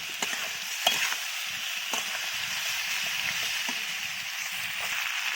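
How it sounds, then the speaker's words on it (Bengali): Cauliflower and potato for aloo dum frying in a pan with turmeric, giving a steady close sizzle with a few soft stirring scrapes and no voices. "কষা হচ্ছে ভালো করে ফুলকপি আলুর দম"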